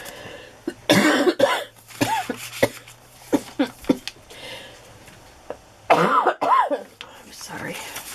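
A person coughs in several sharp, close bursts spread through the stretch, with brief throat clearing mixed in and a little talking between the coughs.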